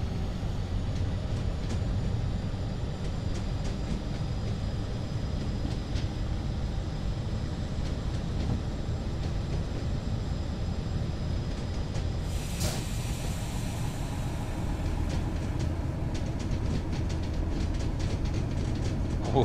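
A diesel train runs steadily in Train Simulator 2019, a continuous low engine drone and rail rumble with faint clicking, a brief brighter burst midway, no talk over it.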